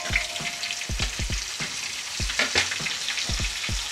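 Cashews and raisins fry in oil for Bengali yellow pulao, a continuous sizzle broken by frequent low knocks and scrapes of a spoon stirring in the pan.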